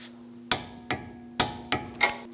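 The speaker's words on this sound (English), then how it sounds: "Now I'm going to torque the lower nut to 46 foot-pounds" Sharp metallic clicks and clanks from a torque wrench on the lower sway bar link nut of a 2011-2019 Ford Explorer rear suspension, five distinct close strikes spaced unevenly with a steady hum underneath.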